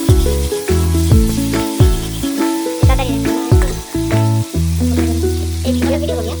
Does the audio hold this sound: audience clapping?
no